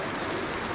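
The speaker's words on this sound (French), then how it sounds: "Mais là, ça pleut à torrent." Heavy downpour on a mountain trail in the Mont Blanc area, a dense, steady wash of rain with no break, heard close and fairly loud, with a river running nearby.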